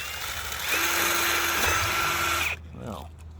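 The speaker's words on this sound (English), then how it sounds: "One quick and dirty drilling coming right up." A power drill bores into metal during a rail joint repair, a loud steady whine lasting about two and a half seconds before it cuts off and spins down.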